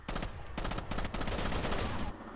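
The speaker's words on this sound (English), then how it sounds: "Oh, he's on a heavy machine gun." Heavy machine gun fire in the video game Rainbow Six Vegas 2 hammers in dense, loud bursts with brief breaks, under game noise.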